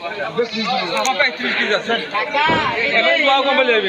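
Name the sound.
Totapuri goats bleating at a goat market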